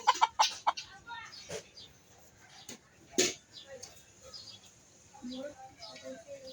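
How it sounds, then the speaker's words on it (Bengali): A white domestic rooster gives a quick run of sharp, close clucks, then a single louder call and scattered softer sounds amid background noise. "খুবই সুন্দর সাদা একটি মোরগ, দেখেন আপনারা।"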